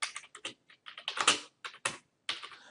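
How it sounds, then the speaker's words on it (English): Someone types an email on a computer keyboard, producing quick, close clicks in short bursts and clusters with brief gaps between them, with no voice present. "you just go ahead and type out whatever you want to type out"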